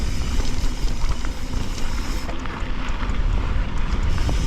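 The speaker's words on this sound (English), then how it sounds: "it's a little bit windy again" Wind buffeting the microphone during a ride in the Peak District above Ladybower and Derwent reservoirs, a loud, continuous rumbling roar with gusty swells and no voices.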